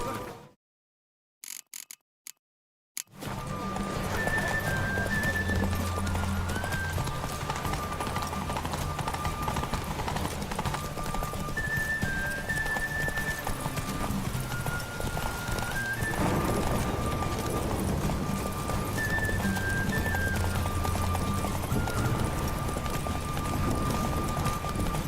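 A horse galloping in The Witcher 3 video game, its hoofbeats drumming steadily and continuously along with an occasional whinny, following a brief burst of noise at the start.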